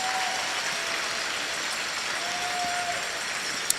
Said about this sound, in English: And the crowd very appreciative of that shot